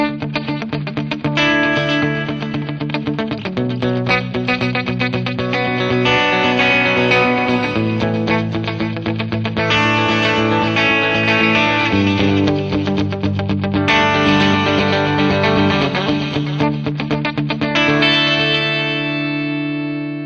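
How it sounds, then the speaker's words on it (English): Line 6 Flextone AX2 212 guitar amp playing an effected tone with stereo chorus, echo and reverb, sustained distorted notes and chords that ring out and shift steadily, loud and continuous with no voices. "Now a sound with stereo effects from the AX2 212."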